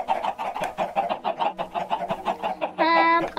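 Chickens cluck in a Minecraft game, a steady run of short, close clucks in quick rhythm, ending with a brief louder squawk-like call.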